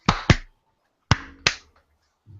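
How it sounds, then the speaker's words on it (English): A small group of podcast hosts claps on a countdown, giving a few sharp, close hand claps in quick pairs, separated by short silences, with no talking over them. "Now we do a clap."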